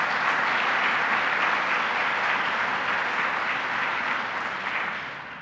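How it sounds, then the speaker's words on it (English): A room full of people at a government child care announcement in New York applauds steadily, a dense, even wash of clapping that holds for about five seconds and fades slightly at the close. "Let's give her a round of applause as well."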